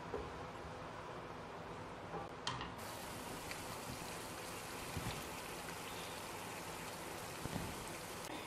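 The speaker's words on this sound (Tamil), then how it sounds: "நல்லா இப்போ இதை கொதிக்க விடணும்." Steady bubbling and sputtering of seeraga kuzhambu curry simmering in a pot, a dense continuous crackle with occasional louder pops, no voices.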